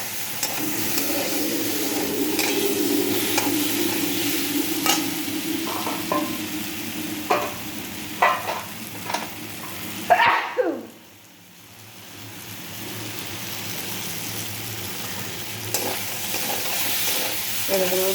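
Jackfruit curry with garam masala stir-fries in a pan: a steady sizzle with scraping stirs, a sharp hissing burst partway through, then a quieter simmering sizzle to the end, no voices.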